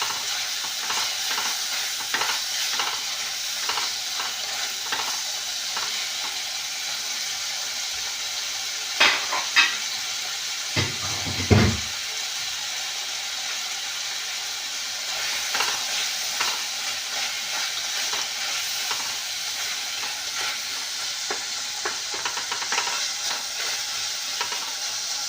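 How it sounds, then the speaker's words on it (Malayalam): Tomato and green chilli stirring and frying in a pan for a home egg gravy, a steady sizzle with a few louder scraping clinks near the middle, no talking. "ഇനി നമുക്ക് ഇതിലേക്ക് തക്കാളി, പച്ചമുളക് ഇടാം. ഇത് നല്ലോണം ഇളക്കി കൊടുക്കും."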